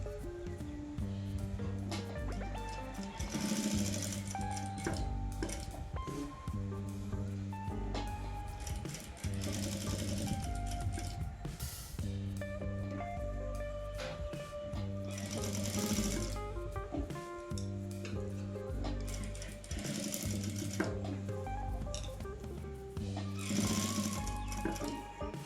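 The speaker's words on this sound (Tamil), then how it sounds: "இப்போது நான் வீடியோவில் ஸ்டிச் பண்ணிவிட்டு காமிச்சிருக்கேன் பார்த்தீங்களா" A sewing machine stitching a blouse runs in steady whirring bursts with brief pauses between them, close and clear with no talk.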